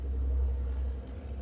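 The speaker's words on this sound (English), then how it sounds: "That's the garbage truck" A Peoria garbage truck rumbles nearby with a steady low engine drone, holding constant throughout the short stretch without any voices.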